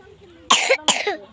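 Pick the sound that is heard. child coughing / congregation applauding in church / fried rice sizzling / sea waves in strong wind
child coughing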